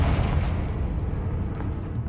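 Confringo blasting spell explosion in Hogwarts Legacy, a broad rumbling boom that fills the clip and slowly fades, heard alone without talk.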